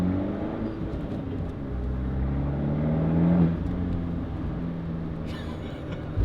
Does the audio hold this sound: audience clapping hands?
no